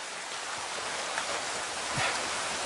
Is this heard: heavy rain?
yes